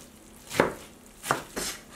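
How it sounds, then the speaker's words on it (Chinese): Knife chopping zucchini finely on a cutting board for pan-fried pork buns: three distinct close chops spaced irregularly, with faint background between strokes. "然后将它切细"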